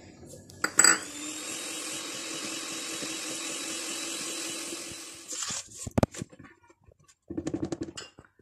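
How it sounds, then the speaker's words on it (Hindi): An electric hand mixer beats an egg into cake batter for an orange marmalade cake, whirring steadily for about five seconds before stopping, followed by clinks and a brief second burst of mixing. "दूसरा अंडा डालेंगे और दोबारा बहुत अच्छी तरह से फिर बीट करेंगे"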